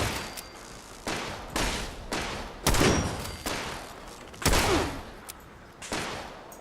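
Pistol gunfire in the video game Fallout 76: roughly seven sharp, loud shots at uneven intervals about a second apart, each with a quick decaying tail, and no talking over them.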